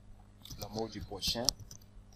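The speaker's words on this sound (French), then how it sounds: "et on clique sur modifier" A single sharp mouse click on a button in an Excel spreadsheet, brief and fairly close, heard over a person speaking.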